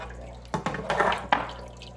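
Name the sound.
water flowing through Seachem Sicce Tidal hang-on-back aquarium filter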